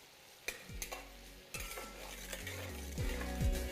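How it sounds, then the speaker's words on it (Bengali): Tomatoes frying over low to medium heat as a spoon stirs them in a pan, giving steady sizzling with repeated scraping strokes and a few sharp clinks of the utensil against the metal, close and alone. "টমেটোটা যতক্ষণ না ভালোভাবে গলে যাচ্ছে ততক্ষণ এটাকে এইভাবেই মেশাতে থাকুন।"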